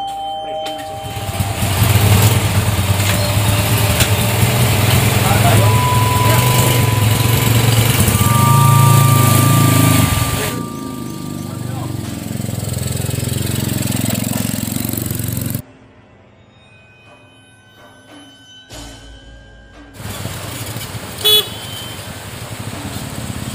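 Motorcycle ride with a steady engine drone and wind rumble, loud and continuous for the first half, then quieter running, a near-silent stretch and a few brief horn-like tones near the end.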